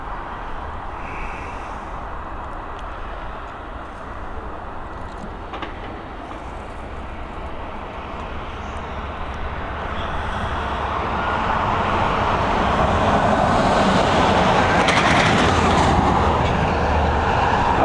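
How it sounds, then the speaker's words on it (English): A Lufthansa aircraft taxis at Dublin Airport, a broad steady roar that slowly grows louder over the final seconds as it draws closer. "Got Lufty Lufthansa on taxi."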